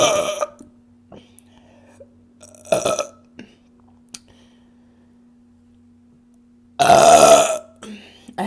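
Several loud, close burps from a woman, one short and two longer drawn-out belches, separated by quiet gaps with faint small clicks.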